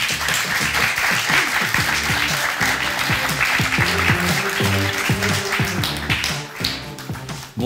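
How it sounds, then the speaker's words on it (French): A French television studio audience claps to welcome a guest onto the set, steady dense applause with a rhythmic tapping pulse running through it before tapering near the end. "Merci d'applaudir"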